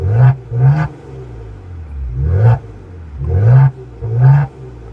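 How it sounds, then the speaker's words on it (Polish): A Maserati Quattroporte's 3.0-litre twin-turbo V6 (410 hp) exhaust revs in five short, loud blips, each rising and falling, with brief idle rumble between them. "czy Maserati ma ładny dźwięk z wydechu?"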